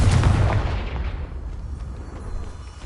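Confringo explosion spell cast in Hogwarts Legacy, a heavy booming blast with deep rumble that fades into a crackling tail over a few seconds.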